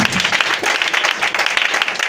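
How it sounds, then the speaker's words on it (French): Lively applause rises in a church as the congregation acclaims Jesus, a dense, loud patter of many hands clapping with sharp irregular slaps throughout. "tu peux donner l'acclamation au Seigneur Jésus"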